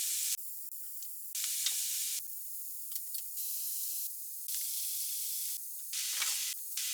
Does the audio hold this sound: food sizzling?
yes